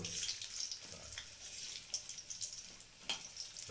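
Cauliflower pakoras fry in hot oil, giving a faint, close sizzle with intermittent crackles and bubbling bursts, fairly quiet overall and with no talk.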